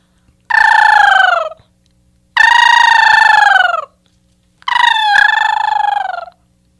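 A human voice imitates a crane call, giving three loud, drawn-out rolling calls with short pauses between them, each about a second long and heard alone.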